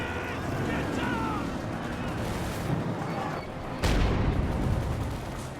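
A Gammon bomb goes off in a World War II strategy game, a sharp loud blast near the end standing out over a steady bed of distant gunfire and battle rumble.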